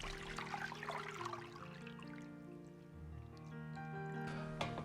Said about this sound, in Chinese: 然后装入盆中，倒入清水清洗干净